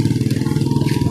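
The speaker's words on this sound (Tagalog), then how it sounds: "Marami ng motor dito guys." Motorcycle engines rumble close by on a busy town-centre street in the morning, a steady throbbing drone with faint clatter, no voices over it.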